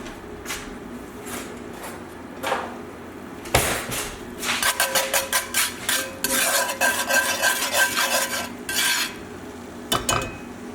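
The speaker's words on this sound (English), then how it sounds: "whisk thoroughly to combine" Rapid metallic clattering and scraping in a bowl, a brisk rhythmic whisking close up while cooking on high heat, with scattered clinks and taps before and after.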